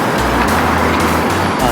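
Steady road traffic near the Burj Khalifa in Dubai, a dense continuous rumble of cars and engines close by with a voice talking over it.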